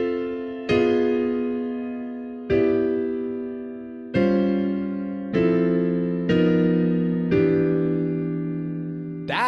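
Jazz piano playing drop 2 rootless voicings with varied extensions, six or so sustained chords struck one after another and left to ring and decay, clear and close with no talking.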